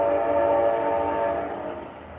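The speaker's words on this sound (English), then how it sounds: "That horn is beautiful." Amtrak locomotive horn sounding in daylight, a loud sustained chord of steady tones that holds for about two seconds and then starts to fade, with no talking over it.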